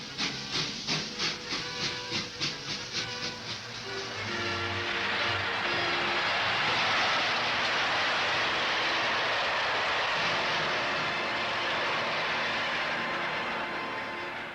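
A steam locomotive gives a quick run of rhythmic exhaust chuffs that merge into a steady, loud roar of hissing steam, with no voices.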